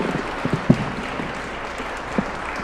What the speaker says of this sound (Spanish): les pido un aplauso para Patricio